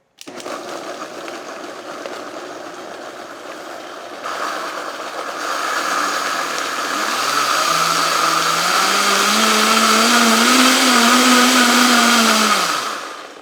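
A blender whirs through frozen pitted cherries for a smoothie, a steady loud motor drone that rises in pitch and strain as the fruit breaks down, then cuts off at the end.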